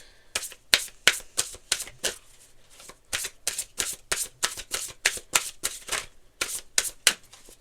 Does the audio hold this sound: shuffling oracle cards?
yes